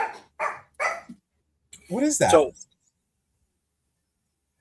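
A Yorkie barks a few sharp, close yips in quick succession, followed by a short burst of louder, higher yapping, with a person's brief voice heard nearby.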